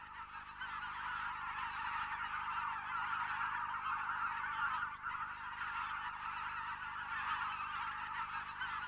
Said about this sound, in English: White fronts produce a characteristic yapping sound in flight.